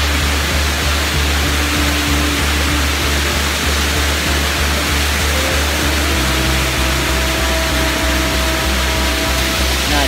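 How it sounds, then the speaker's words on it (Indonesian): Loud, continuous rushing roar of a natural waterfall in Bulukumba, Indonesia, broad and unbroken, with no voices. "kita tiba di air terjun"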